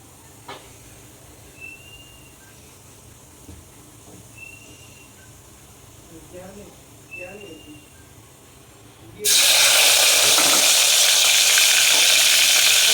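Tomato, chili and ginger temper in hot oil. A quiet sizzle with a few clinks builds to a sudden loud, sustained hiss as they hit the oil, and a voice talks faintly early on.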